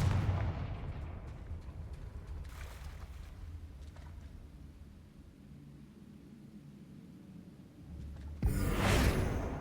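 Confringo blasting spells explode in Hogwarts Legacy: a heavy boom opens, muffled thuds and rumbles follow, and a louder, bright, noisy blast bursts near the end. No one speaks.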